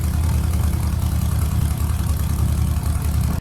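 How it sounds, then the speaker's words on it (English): A Harley-Davidson motorcycle with a two-into-two exhaust idles steadily and close by, its deep exhaust rumble holding an even, throbbing pulse throughout before cutting off abruptly at the end. "I love the way the 2-into-2 sounds."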